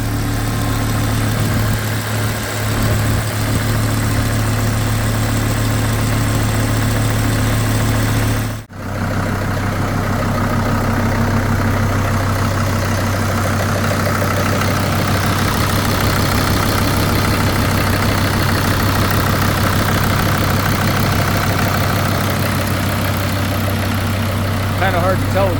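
A Kubota M125X tractor's diesel engine idles steadily and loudly at close range, a low even rumble with a brief dip partway through, after a fault that filled the crankcase with fuel.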